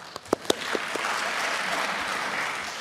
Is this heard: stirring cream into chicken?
no